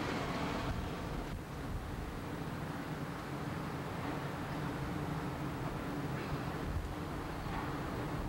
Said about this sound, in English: You can hear the exhaust gases in the background.